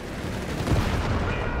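Heavy gunfire and explosions batter a Panzer tank in a hectic video game battle, a dense continuous roar of shots and blasts with a swell in the middle.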